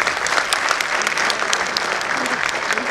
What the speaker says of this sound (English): Please, everybody give them a big round of applause.